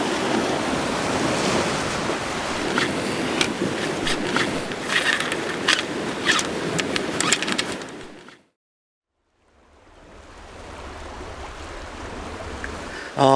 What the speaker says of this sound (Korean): 파도가 너무 이니까 백파가 막 바깥에는 아, 넘치고 있습니다.